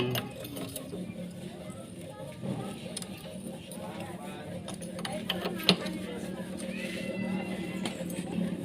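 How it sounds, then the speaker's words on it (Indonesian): A special wrench tightens a part on a Minerva motorcycle engine under repair, giving ratcheting, clicking mechanical sounds with a sharper knock near the end, heard beneath steady talking. "Teman-teman bisa menggunakan ini kunci khusus karena kalau tidak menggunakan kunci biasa itu tidak bisa bos. Harus menggunakan kunci khusus. Kita kencangkan."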